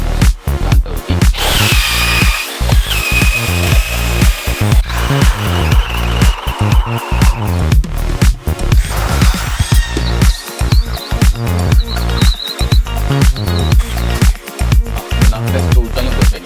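A Festool TPC 18/4 cordless impact drill runs in a close, loud, continuous burst of rapid rhythmic hammering, with brief stops and restarts and no talk.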